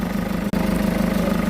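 A hot car engine idles steadily during a hydrogen decarbonizing treatment, a close, even, low hum with regular pulsing, briefly cut by a tiny dropout before the drone carries on unchanged.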